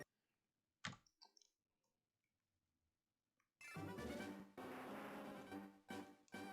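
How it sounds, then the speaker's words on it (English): Buttons being pressed on a handheld game console during a Pokemon FireRed and LeafGreen shiny hunt: a few sharp, close clicks early on, then a loud burst of other sound takes over. "Wonder if you guys can hear my button clicking."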